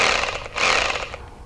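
A hammer drill set to hammer-only mode for chiseling chatters in two fast rattling bursts separated by a brief pause, moderately loud and close with no talk.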